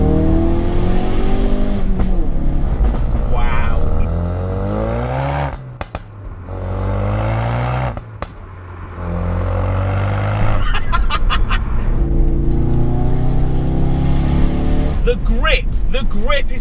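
A Ford Focus RS Mk3 driven hard in sport mode, its engine revving up through the gears in rising pulls with brief drops at shifts and pops, heard from inside the cabin under someone talking.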